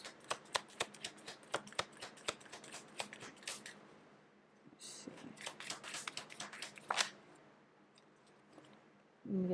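Tarot cards are shuffled and drawn up close, a quick run of crisp riffling clicks and flicks, then a pause and another flurry of slaps and slides, with soft talk in the background.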